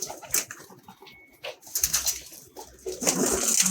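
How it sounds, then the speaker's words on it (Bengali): A female pigeon coos in short low bursts while being held in the hand, with rustling and fluttering around the calls. "মেবি এটা মাদি কবুতর"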